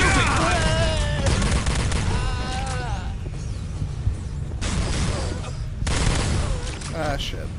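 Video game gunfire crackles in dense bursts amid a sci-fi firefight, heavy rattling volleys broken by short pauses, mixed with shouting voices and game sounds.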